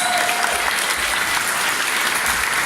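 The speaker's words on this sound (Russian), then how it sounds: "Аплодисменты!" Dense, sustained applause from a crowd at Russian Barber Week 2018, loud and even throughout with no pauses, a full wall of clapping hands.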